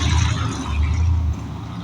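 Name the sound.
loud car driving by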